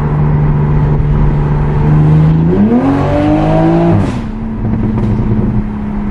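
A Toyota MK5 Supra with an automatic transmission revs up. The loud, close engine drone climbs in pitch, holds briefly, then drops back to a steady lower hum.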